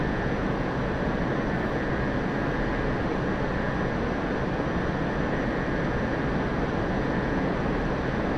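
A military jet in DCS World holds a constant, dense engine roar with a steady high whine as it rolls for takeoff, loud and unchanging throughout, with no voices.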